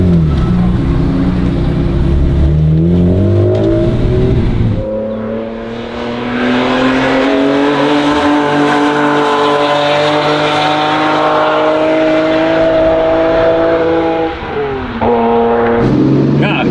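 A tuned BMW E46 engine revs and drones continuously at high speed on a race track, its pitch climbing and dropping through gear shifts, loud and close throughout.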